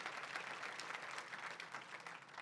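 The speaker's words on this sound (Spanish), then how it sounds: "Dele un fuerte aplauso al Rey de la Gloria conmigo." A church congregation breaks into strong applause, with many people clapping continuously in a dense, bright, fairly loud burst.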